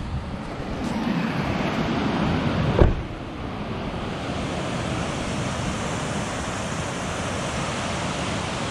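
High water in a mountain river rushes in a steady, loud broadband roar, close and continuous, with a brief knock partway through and no speech.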